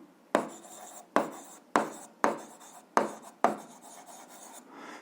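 Pen strokes on paper while writing out eighth-grade algebra notes, six scratchy bursts in a steady rhythm, close and fairly quiet, with no talk.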